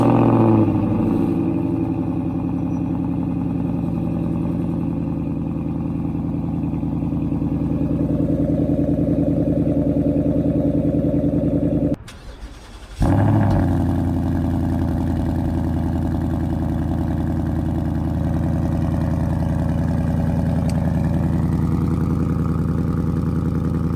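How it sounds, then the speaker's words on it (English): Ford Mustang, seventh generation, idling through an aftermarket dual exhaust. It gives a steady, deep engine rumble at close range, with a short break partway through before the idle resumes. "Take a listen at the difference in the exhaust notes."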